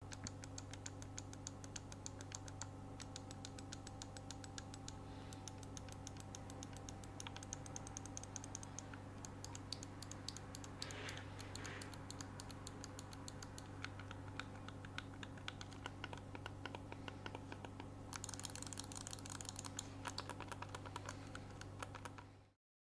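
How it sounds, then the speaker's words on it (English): Rapid clicking of micro switch buttons on a BM63 Pro controller, held very close to the microphone, sharp clicks in quick irregular bursts over a steady low hum. "The one I have here is the BM63 Pro, which has micro switch buttons that have a mouse click, so they are louder than normal membrane buttons"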